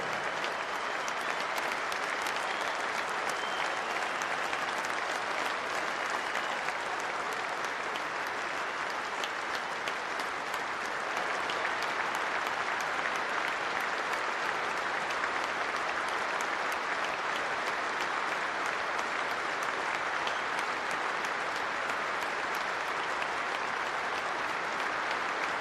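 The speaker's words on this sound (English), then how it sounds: "please be upstanding for 23 seconds of applause for one of the greats of the game" A cricket crowd at the England versus New Zealand first Test stands for a tribute to Shane Warne, and sustained applause fills the ground for about twenty-five seconds, loud, dense and unbroken, with no voice over it.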